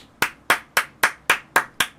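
Seven crisp hand claps in an even, steady rhythm about a quarter second apart, close and loud with no other sound.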